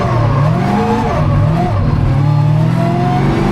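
A drift car's engine revs hard and continuously, its pitch climbing and falling, with tires squealing as it slides. The sound is loud and close throughout. The car is a drift project whose engine was cutting out on low oil pressure.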